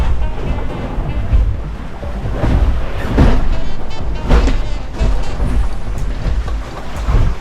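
Rough Atlantic seas crash and pound against a small sailboat crossing solo, loud surging wave hits over constant wind and hull rush, with heavier impacts around the middle.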